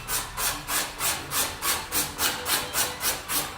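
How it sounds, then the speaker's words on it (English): Steady back-and-forth scraping of a wooden violin plate's outer arching with a hand scraper, about ten even rhythmic strokes close by, loud and dry with no talking. "as a last step I take the scraper"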